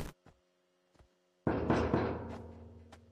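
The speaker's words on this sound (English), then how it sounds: "Oh, don't like the knocking sounds." Knocking in the horror video game Upstairs: a few sharp isolated knocks, then a loud burst of heavy thumping and rumbling that slowly fades, with a final lone knock.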